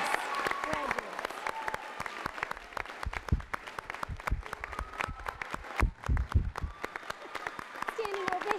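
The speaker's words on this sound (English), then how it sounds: "Please join me in congratulating and applauding the 2019 Higgins Middle School" Scattered, fairly faint applause from the audience at a middle school moving-on ceremony for 2019 graduates, with distinct individual claps and voices in the room.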